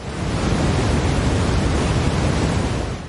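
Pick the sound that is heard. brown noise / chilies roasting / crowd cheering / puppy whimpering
brown noise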